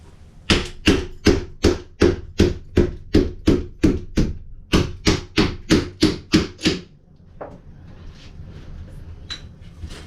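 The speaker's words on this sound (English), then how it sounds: "When it doesn't come out, I use the big hammer." Steady rhythm of loud, sharp blows from a big hammer during bathroom demolition, about fifteen in quick succession with a short pause midway, followed by quieter scraping and rattling debris.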